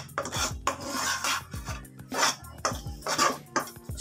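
Gram flour halwa being stirred and roasted in a pan over a slow flame, with repeated scraping and rasping strokes of a utensil against the metal, steady and close, with no talk.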